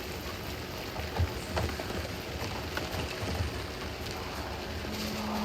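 Steady rain pouring in a dark horror video game, Alan Wake 2, a dense hiss of drops on surfaces with a few faint knocks, continuous and moderately loud, no voices.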